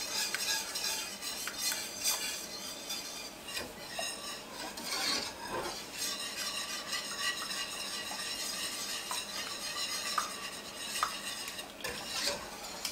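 A spoon scrapes and clinks steadily around a pot as colby-jack cheese is stirred into hot boiled milk, a continuous busy rasping with occasional louder knocks against the metal.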